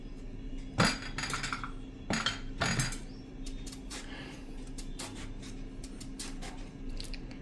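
A knife chops bottle gourd into pieces on a board: a few heavier knocks in the first three seconds, then quicker, lighter taps and clinks that continue at close range with no talk.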